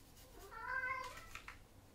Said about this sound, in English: The other cat's meowing.